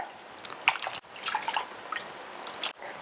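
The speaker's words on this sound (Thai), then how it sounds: "พอเราแช่สารส้มประมาณสัก 5 นาทีแล้วนะคะ ก็เอามาล้างน้ำสะอาดค่ะ" Santol fruit rinsed in clean water, with close, soft splashing, dripping and sloshing as the fruit is moved by hand, fairly quiet and without talk.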